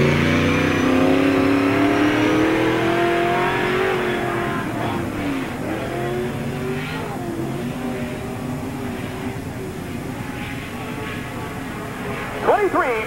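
A NASCAR Busch All Star Tour race car runs a qualifying lap at Tri City Speedway in 1997, its engine revving loud and then fading as it moves around the oval, with an announcer talking over it.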